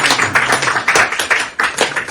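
A small crowd claps at a traditional marriage asking ceremony in Eswatini. The applause is close, lively and uneven, and swells in several quick waves.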